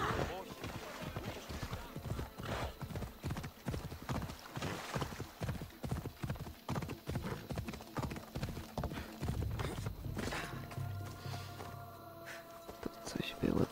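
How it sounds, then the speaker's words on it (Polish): A horse gallops in the video game Assassin's Creed Odyssey, its rapid, rhythmic hoofbeats clip-clopping steadily throughout with a voice heard at times over the game sound. "Korzystamy z konia i pogalopujemy tam."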